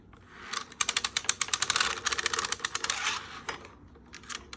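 Bear Valley circular sock knitting machine being hand-cranked, a rapid close clatter of ratcheting needle clicks in a fast even rhythm that slows and trails off.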